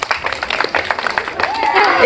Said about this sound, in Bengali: সবাই তার জন্য একটা হালি হাততালি দেবেন